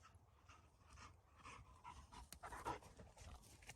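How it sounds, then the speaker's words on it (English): A dog pants steadily outdoors on grass, quick rhythmic breaths close by with a faint whimpery edge, under soft background noise and no talking. "Look at that dog."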